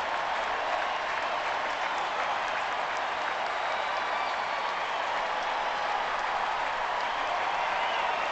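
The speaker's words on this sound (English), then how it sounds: "heads home to a standing ovation from the crowd here" A baseball crowd gives a standing ovation after a home run, producing loud, dense, sustained applause and cheering that stays even from start to finish.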